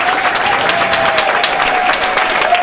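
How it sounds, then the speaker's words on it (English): An audience at a World Elder Abuse Awareness Day event gives a steady round of applause, dense continuous clapping filling the room from start to finish. "please stand up and give them a round of applause."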